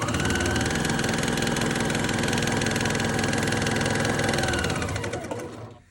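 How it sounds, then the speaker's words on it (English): Sewing machine chain piecing quilt fabric pieces without cutting threads between them, a steady loud mechanical whirr running continuously for several seconds before slowing and fading at the end. "I'm chain piecing this, meaning I'm not cutting in between, I'm just assembly line sewing it"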